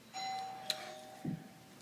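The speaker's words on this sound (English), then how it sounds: "doorbell ring." A doorbell sounds once indoors, a short faint electronic chime in a quiet room, ending in a soft low thump.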